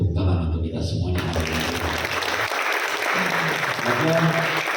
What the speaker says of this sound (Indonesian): dan tepuk tangan untuk kita semuanya